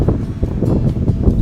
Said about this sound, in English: The wind's picking up pretty bad too.